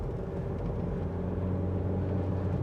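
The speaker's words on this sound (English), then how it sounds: "So this is just part throttle acceleration." A Mk4 Jetta with a Tiptronic automatic accelerates at part throttle uphill under load, its engine giving off a steady, close, low rumbling drone.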